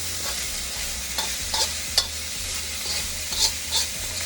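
Chicken fried rice sizzles and crackles in a wok over high heat, with a steady close frying hiss and the occasional scrape and clack of a spatula stirring.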